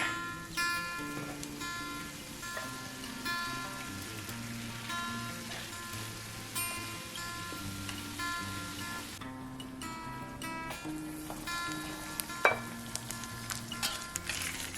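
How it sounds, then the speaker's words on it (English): Chunks of sweet potato fry in a pan for a breakfast hash, a continuous soft sizzle with occasional scraping stirs beneath steady background music. "Cook for about 5 minutes until everything is heated through, gently stirring to combine"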